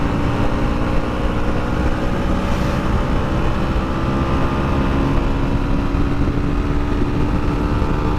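Steady, loud engine drone of an FB Mondial HPS 300 motorcycle held under throttle at speed, a continuous roar with wind rush and no pauses or talk.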